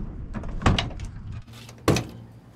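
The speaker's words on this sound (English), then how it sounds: "doors open very smoothly." A 1970 Plymouth Cuda door swings open with a soft mechanical click and thud, followed by a second latch sound a moment later; close and fairly quiet.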